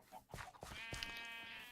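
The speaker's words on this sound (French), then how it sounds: "Oh, taisez-vous les moutons là." Sheep bleating in a video game, a couple of short bleats followed by a longer wavering bleat, close and clear with no voices.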